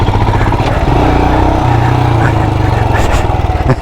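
A motorcycle engine running steadily and loud up close on a dirt trail at an adventure bike festival, with a faint voice underneath and a brief shift in engine pitch near the end.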